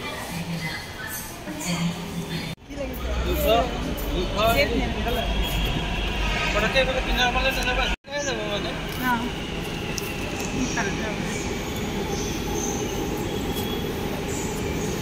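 A Hyderabad metro train at a station, with rolling rumble, squealing wheels and clattering, joined by chatter and an announcement-like voice over the rail noise throughout.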